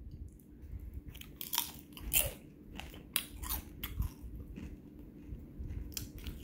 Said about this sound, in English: I'm eating my rolled up taco because I'm hungry